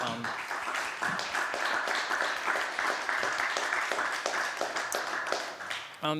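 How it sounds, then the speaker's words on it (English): Applause for the panelists closing a panel discussion on European competitiveness: a room of people clapping steadily at moderate volume for several seconds, with crisp individual claps throughout before it tapers at the end. "let's give a round of applause to all of our panelists"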